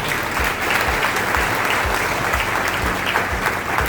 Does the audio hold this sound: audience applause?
yes